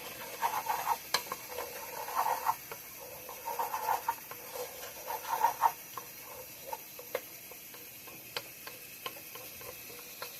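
Home-grown potatoes and beans frying in a pan on a home stove, a soft, faint sizzle with scattered ticks and crackles popping irregularly through it, no voices.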